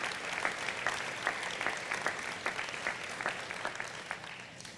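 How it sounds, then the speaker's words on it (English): An audience claps in a steady, sustained round of applause at the Percy Priest Elementary School ribbon cutting ceremony, with dense crisp hand claps filling the room and no talking. "Let's give our entire community a round of applause for that accomplishment"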